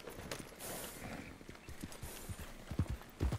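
Horse hooves clip-clop at a walking pace in the Red Dead Redemption 2 video game, a series of close, thudding beats growing heavier toward the end over soft background ambience.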